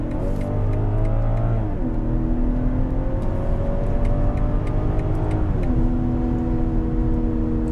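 A 2022 BMW 540i Touring with its 333 PS inline six-cylinder engine accelerates hard, the engine note climbing steadily and dropping briefly at two upshifts, a continuous loud drone heard from inside the car.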